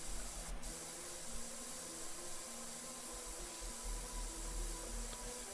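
A pressure washer sprays in PowerWash Simulator, a steady close hiss with a faint low motor drone underneath, running continuously without talk.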